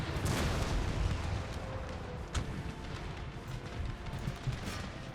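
Cannon artillery fire in the video game Empire: Total War, a steady dense rumble of distant booming volleys with one sharper report standing out midway.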